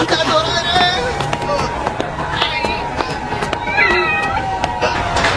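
A cat meows several times in a Hindi-dubbed Chainsaw Man anime episode, short high mews mixed with background effects and music.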